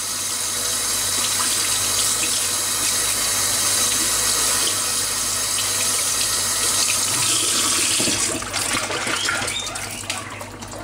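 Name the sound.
water filling a rodent's drinking bottle to the brim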